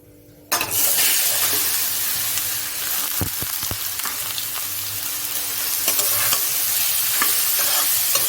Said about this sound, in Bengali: পেঁপেটা দিয়ে আমি কিছুক্ষণ একটু কষিয়ে নেব